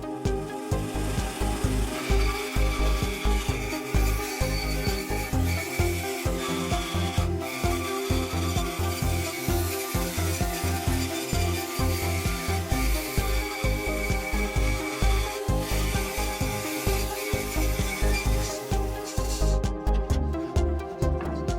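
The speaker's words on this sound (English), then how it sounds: "Now I'll use a bandsaw to remove the majority of the excess material." A bandsaw cuts away excess wood from a CNC-carved crest with a continuous, dense, rasping whine and rapid rhythmic chatter that holds steady for the whole stretch, close and loud.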